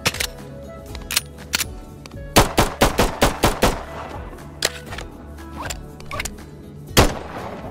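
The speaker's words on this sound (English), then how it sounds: "I almost forgot the most cursed gun of all." Bursts of rapid gunfire from the reverse gun in the VR video game Bonelab: a string of sharp, loud shots clustered mid-clip, with scattered single shots before and after over a low background hum.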